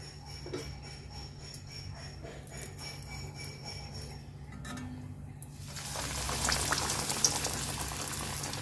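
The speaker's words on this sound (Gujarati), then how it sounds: "તો હવે આપણે એને ફ્રાય કરી લઈશું." Breaded round veg cutlets deep frying in hot oil over a low flame, a steady bubbling boil that thickens and grows louder partway through, with faint clinks early on and no talk.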